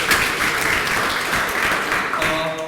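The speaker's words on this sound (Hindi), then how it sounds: "ताली बजाइए" Seminar audience claps loudly and continuously at a personality development session, a dense near round of applause that fades slightly at the end.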